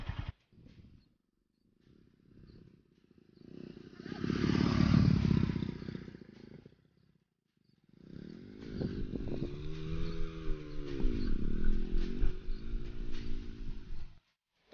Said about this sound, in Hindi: अभी सोच रहा हूँ अभी बाइक में घर तक लेके जाऊंगा